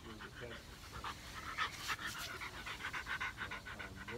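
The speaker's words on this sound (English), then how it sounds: "Here is my dog, Panda." A dog pants close by in quick, rhythmic breaths, fairly soft, with a voice talking over part of it.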